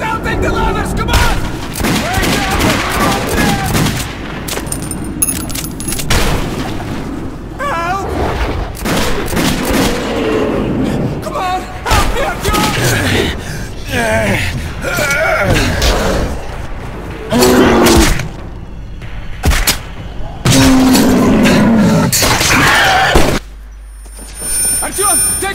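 Rapid bursts of gunfire and heavy thuds from a firefight in the Metro 2033 Redux video game, dense and loud, mixed with frantic shouting voices throughout.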